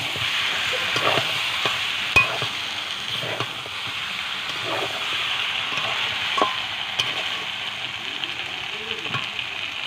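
Chicken pieces fry over a clay stove, a constant bright sizzle with irregular spoon scrapes and knocks as the meat is stirred.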